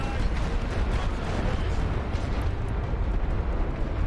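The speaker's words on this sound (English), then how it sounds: "We are hitting them with artillery." Artillery fire in the video game The Great War: Western Front, a dense, continuous rumble of distant booms and blasts blending into a steady roar.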